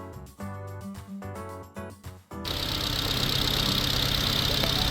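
A 2015 Ssangyong Tivoli LX gasoline car idles after starting; the first half shows broken, uneven tones, then a steady close engine hum settles in and holds to the end.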